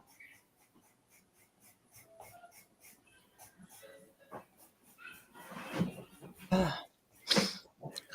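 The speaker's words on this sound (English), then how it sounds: "Sneezing." Soft rustling and small knocks give way to a few loud, sharp sneezes bursting out near the end.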